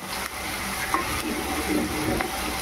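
Onion, ginger and garlic fry and get stirred in a pan, giving a soft continuous sizzle with occasional light scrapes and clinks of a utensil against the metal.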